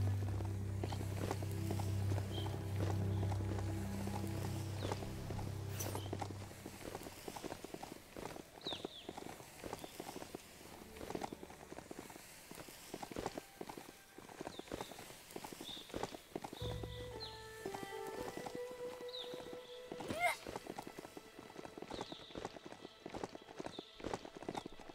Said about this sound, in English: Doesn't riding a beast like this feel good?